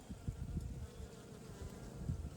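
Bees forage on huckleberry bush flowers, giving off a soft, continuous buzzing drone with fluttering low pulses as individual insects move near and away, faint and outdoors.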